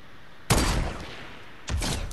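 Gunfire in the video game Fortnite: two sharp bursts of shots, the first longer and the second near the end, heard alone at moderate loudness over quiet background.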